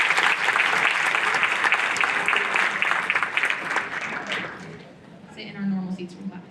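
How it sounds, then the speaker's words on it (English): Audience applause at a youth symphony orchestra concert for student musicians, dense clapping from a full hall for several seconds before fading out, followed by a voice speaking. "So a round of applause for them."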